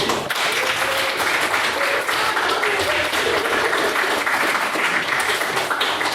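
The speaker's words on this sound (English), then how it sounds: "can we please get a second round of applause for all of our brilliant speakers?" Audience applause for a panel of speakers, a loud continuous roar of many hands clapping throughout, with faint voices mixed in.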